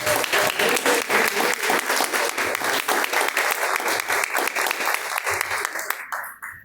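A standing church congregation claps joyfully in steady, dense rhythmic applause that fills the room, then fades out at the end.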